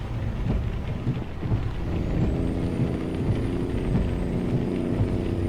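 A thunderstorm from a weather mod in the American Truck Simulator video game: continuous rain with low rumbling thunder under a droning truck engine, fairly loud and steady, no voices.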